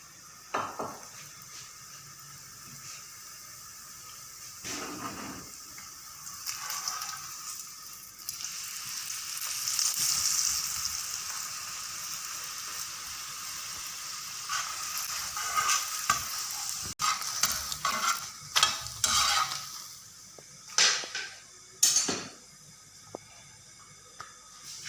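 Paratha fries in oil in a pan, a soft continuous sizzle broken by scraping stirs and clinks of a utensil against the pan, growing busier toward the end, with no talk.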